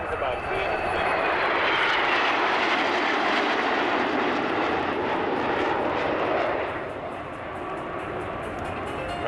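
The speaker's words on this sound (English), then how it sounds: "especially for the 5 aircrafts flying in one line behind the leader" Swiss Air Force Patrouille Suisse jets in formation at an air show: a loud, sustained jet engine roar that swells and then gradually recedes into a fainter rumble, with a commentator speaking over it.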